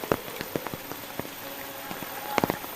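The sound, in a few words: light drizzling rain in a village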